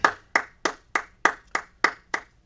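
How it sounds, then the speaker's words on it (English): Eight sharp hand claps at a Wednesday night law class, evenly spaced in a steady rhythm, each crisp and fairly quiet, with near silence between them. "All right, clap it up."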